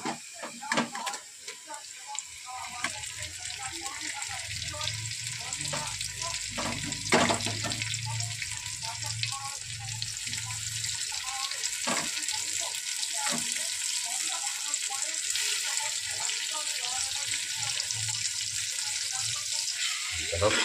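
Chicken pieces frying in a clay pot over a low flame, a continuous soft sizzle with occasional clatters and scrapes as the pieces are added and stirred, and a low rumble early on.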